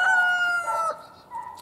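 A chicken calls near a fenced area in a short, close, tonal cry lasting under a second, followed by a fainter second call, with no talking over it.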